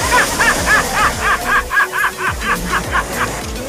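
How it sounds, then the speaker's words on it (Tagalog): Several dogs bark in a rapid, repeated volley at a stray dog on a seaside stretch in Oriental Mindoro, the sharp barks coming close together, fairly loud and nearby, with no talk over them. "Hindi pala taga rito yung aso na yun."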